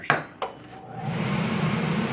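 A flat top griddle heating up gives off a steady, rising roar like a loud fan that builds and holds, after a couple of sharp knocks at the start, with a brief spoken word.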